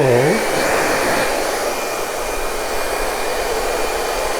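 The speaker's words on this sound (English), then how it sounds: "let's get the blower. Set it on cool. And set it on low." A hair dryer used as a blower on its cool, low setting runs as a steady, close whoosh of airflow for the whole stretch after a brief tonal start-up whine, with no talking.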